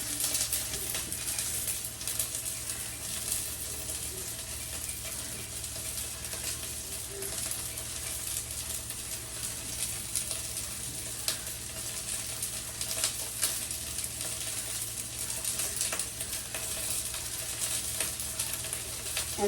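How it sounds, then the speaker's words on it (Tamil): Small onions fry in a pan for a cluster bean curry, making a steady close sizzle with occasional light clicks and scrapes, and no talking over it. "அதில் நிறைய வெங்காயம் நான் போட போகிறேன் அப்படியா பொரியுது"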